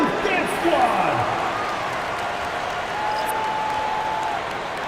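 Simulated arena crowd in the NBA 2K26 basketball video game claps and cheers under a commentator's voice, moderately loud at first and then settling into a steady wash of crowd noise.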